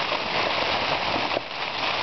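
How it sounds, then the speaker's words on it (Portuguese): Heavy rain drumming steadily on a tent surface, a dense, continuous patter close by with no voices. "Tá uma chuva muito forte."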